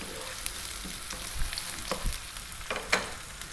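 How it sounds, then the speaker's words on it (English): Pitted black olives dropping into a hot frying pan, a steady close sizzle with a few soft plops and stirring clicks spread across the moment, no talking. "I'm going to drop my olives in now, using black."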